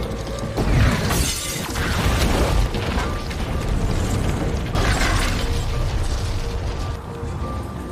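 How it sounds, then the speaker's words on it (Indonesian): A loud room explosion in a film bursts with shattering crashes and debris, then a sustained rumbling roar that lingers and slowly fades. "ruangan itu meledak begitu dahsyatnya"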